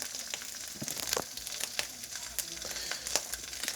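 A hangover sandwich fries in a pan, giving a steady close sizzle with scattered crackles and pops running the whole time, with no talking over it.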